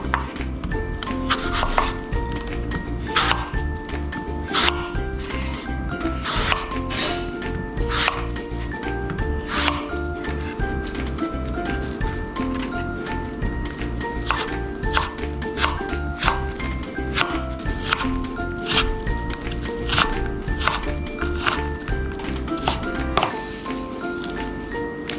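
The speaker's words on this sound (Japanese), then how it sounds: "これを角切りにします。" Steady rapid knife chopping as an apple is diced on a board, with many crisp even cuts under soft background music.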